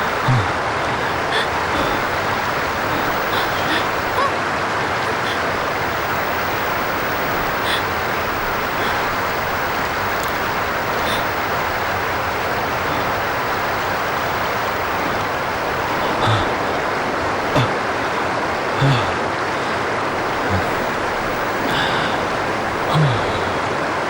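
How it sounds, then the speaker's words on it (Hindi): A frightening waterfall roars as a steady, loud broadband rush, continuous and unbroken throughout, with no distinct events standing out beyond faint scattered clicks. "यार ये झरना तो बहुत डरावना।"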